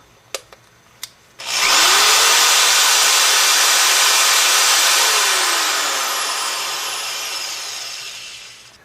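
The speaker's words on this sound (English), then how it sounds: "When I was running my drill," An electric drill powered from a small solar setup clicks a couple of times, then runs with a loud, steady whir for several seconds before slowly fading, heard up close with no talking.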